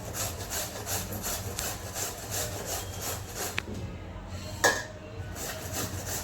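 Peeled bottle gourd (lauki) is grated for paratha with steady, rhythmic rasping strokes close by, broken by a brief pause and a couple of light knocks.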